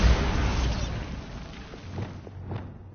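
A Bombarda explosion spell in Hogwarts Legacy lands as a broad, loud rumbling blast that fades over a few seconds, with a few faint thuds trailing off and no speech.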